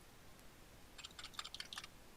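Computer keyboard keys clicking as someone plays a video game with friends; a quiet burst of rapid, irregular clicks in the second half, faint and slightly distant, with no talk.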